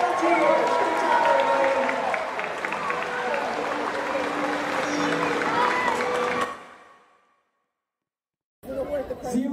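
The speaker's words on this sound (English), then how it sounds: "how about a huge round of applause for True and Micaiah, their audience volunteers" Audience applause and cheering at a SeaWorld killer whale show, a loud sustained crowd roar that cuts off abruptly, followed by a brief silence and then talk.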